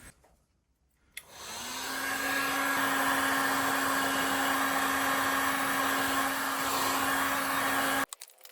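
A heat gun blows steadily on a plastic part from a 1982 Suzuki RM 125 motorcycle held in a vise, a loud continuous whooshing hum that starts abruptly, holds for several seconds, then cuts off.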